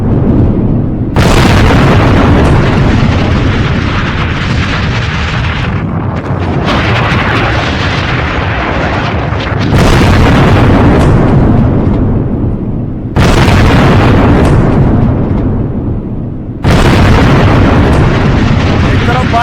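Heavy booming blasts from Israeli bombing of Lebanon, a series of four or five loud, rumbling explosions each starting with a sharp burst and rolling on for several seconds, with a voice talking through them.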